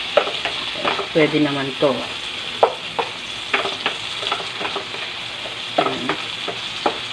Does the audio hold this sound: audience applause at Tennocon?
no